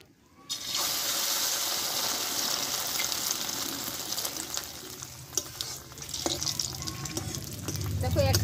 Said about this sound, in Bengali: দেখো আবারও আমি একটা ভেজে নেব একই প্রসেসে।